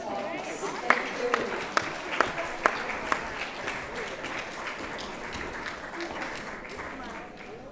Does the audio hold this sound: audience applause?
yes